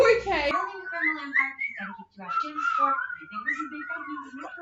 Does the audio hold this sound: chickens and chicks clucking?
no